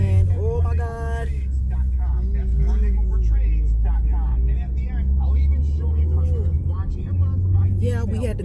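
A car moves slowly through congested highway traffic, with a steady low engine and road rumble throughout and people talking inside the cabin over it.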